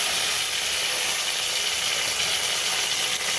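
Curry leaves drop into hot oil already holding fried tempering seeds, raising a loud, dense, continuous hiss of sizzling that stays close and even throughout.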